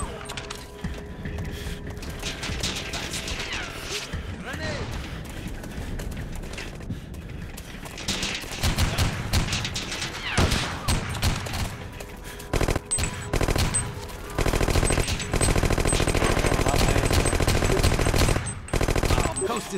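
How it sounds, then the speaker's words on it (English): Heavy machine gun fire in the shooter game Bet on Soldier, a dense burst of rapid shots over busy in-game noise and mechanical clatter, growing louder and more sustained toward the end. "Watch out! Heavy machine gun."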